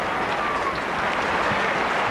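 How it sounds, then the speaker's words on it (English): A large football crowd at Anfield applauds in a steady, distant wash of clapping that fills the whole stadium, with no distinct voices standing out. "drawing applause again from the Anfield crowd"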